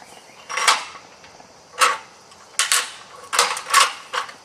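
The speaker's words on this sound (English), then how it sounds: "the machine will crack a macadamia nut very easily" A homemade black walnut cracker machine cracking a macadamia nut: a handful of sharp, close cracking snaps spaced irregularly over a few seconds, with quiet pauses between them.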